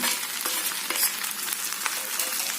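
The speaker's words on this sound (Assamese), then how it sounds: "ইয়াতে এই যে ভাজি থৈছিলোঁ বিলাহীখিনি এইখিনি দি দিম" Previously fried tomatoes dropped into hot oil for a restaurant-style chicken curry with mawa, giving a bright, crackling sizzle with small pops and stirring clatter, close by and with no talking.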